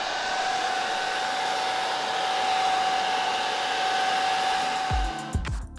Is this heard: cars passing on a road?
no